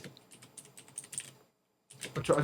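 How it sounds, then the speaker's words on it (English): Computer keyboard and mouse clicks tap out quickly at close range, stop briefly, then start again with a louder, busier burst. "I'm just clicking links now."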